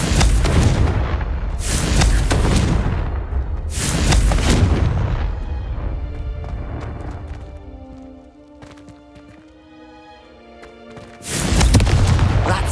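Confringo fire spell blasts in Hogwarts Legacy: a few loud booming bursts, each broad and crackling, separated by quieter stretches of ringing tonal game music, with a final blast at the end.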